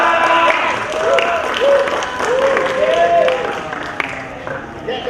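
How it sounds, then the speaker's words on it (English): An audience at a 2017 self-empowerment programme for A Level students gives a round of applause. The clapping is moderately loud and continuous, and a voice speaks over it with some tonal sounds mixed in. "Give them a round of applause."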